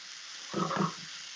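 Rice browning in a pan gives a short burst of sizzling and frying, about a second long, rising briefly out of a quiet background.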